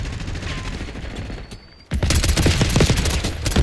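A gun fires in Call of Duty: Black Ops 6, first a muffled rattle of distant shots, then after a brief lull a loud, rapid burst of automatic fire that continues steadily to the end.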